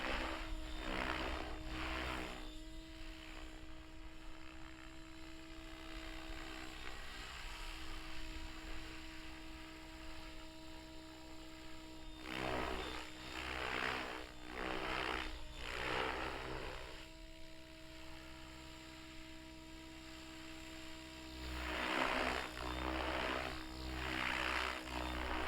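An RC helicopter hovers through two consecutive stationary flips, a steady rotor and motor whine with bursts of rushing airscrew noise as it rotates, heard from a short distance outdoors.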